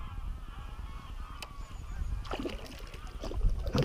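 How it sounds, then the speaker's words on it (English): A flock of about a hundred ducks or geese that have just taken off from a lake, their honks rising from a faint distant chatter into a loud, overlapping clamor, with light splashing and wind. "Just listen to ducks or geese across there."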